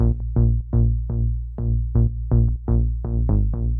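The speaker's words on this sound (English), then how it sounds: "my bass was from my Moog Sub 37" A raw, buzzy Moog Sub 37 analog synth bass plays a punchy rhythmic pattern of short repeated notes, loud and dry with no effects.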